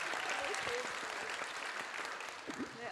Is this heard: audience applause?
yes